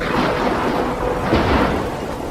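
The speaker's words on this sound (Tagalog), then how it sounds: "Isang napakalakas na bagyo daw ang pumasok sa may rehiyon ng Luzon." Heavy rain pours steadily during a powerful typhoon striking the Luzon region in May, with thunder rumbling through a dense, continuous roar of downpour and no voices.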